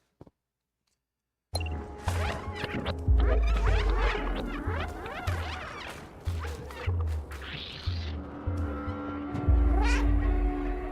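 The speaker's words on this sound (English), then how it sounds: "Why are you meowing?" A cat meows several times indoors, its cries rising and falling amid clattering and bumping noises close by.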